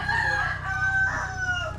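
A rooster kept by a family crows loud and close in one drawn-out, wavering call, with rough clucking-like texture and steady background hum.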